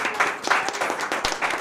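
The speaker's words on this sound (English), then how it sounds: "I think everyone deserves a round of applause" A round of applause from a small group of participants on a comedy panel game show, with dense, steady clapping at close range that swells and dips briefly.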